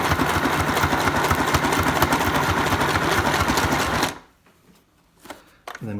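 A sewing machine zigzag-stitches over a length of string, running in a fast, steady, loud burst for about four seconds before stopping. A few faint handling noises follow.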